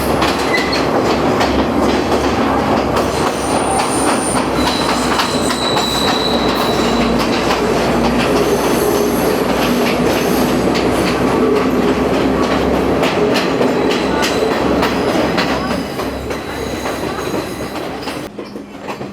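The Ella Odyssey train runs on rails between Ella and Ambewela in Sri Lanka, a loud continuous rumble with rhythmic clickety-clack of wheels and occasional squeals, easing slightly near the end.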